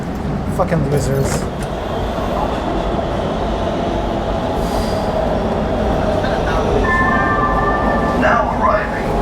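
An LA Metro subway train pulls into 7th Street/Metro Center station, with a loud, continuous rumble of wheels on rail, metallic squeals and brake hiss building near the end.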